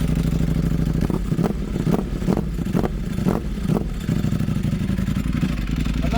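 A Ducati Panigale V4 R superbike engine, a loud, sustained close roar with a series of sharp revving pulses and blips through the middle, then settling back into a steady drone.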